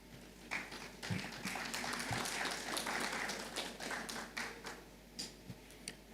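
Audience applause at a panel session during a technology launch in Uganda, steady dense clapping from a seated crowd lasting several seconds, with a few louder individual claps standing out near the end.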